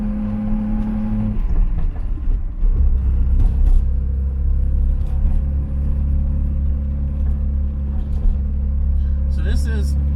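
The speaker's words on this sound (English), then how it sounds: "So this is simply double clutching." A car engine idles and rises in low rumbling revs as the driver double clutches through gear changes, a steady close drone with shifts in pitch, while someone talks over it.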